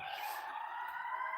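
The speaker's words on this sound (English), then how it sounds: "y'all hear them sirens" Sirens wailing from far off outside, a faint, steady whine that holds through the whole moment with no voices over it.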